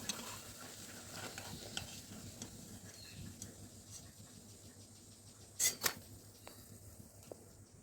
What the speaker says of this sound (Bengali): সব এক একে ভাজা হয়ে গেল।